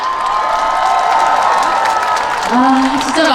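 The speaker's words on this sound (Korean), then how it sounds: "다시 한번 환호 보내주시기 바랍니다" A crowd at the Chungju Dive Festival concert cheers and applauds loudly for the singer. The clapping and shouting form a dense, continuous roar.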